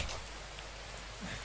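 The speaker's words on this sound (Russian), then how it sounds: "Тут что, дождь?" Rain falls steadily in the survival video game The Infected, a close, even hiss of drops that fills the whole short stretch without a break and has no speech over it.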